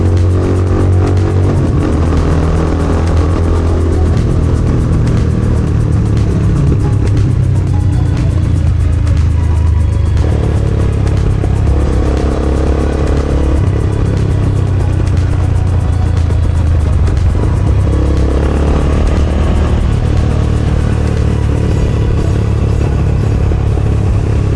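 A Motorstar Explorer 250GPR motorcycle being ridden, its engine droning steadily with low rumbling tones that shift in pitch as it changes speed, heard continuously and loud, with wind noise and no clear talk.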